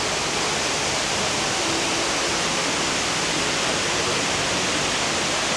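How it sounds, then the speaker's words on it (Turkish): Indoor waterfall inside Dubai Mall gives a steady, dense rush of falling water, loud and unbroken throughout with no voices over it. "Dubai'ye gelirseniz Dubai Mall'un içerisinde şelale var."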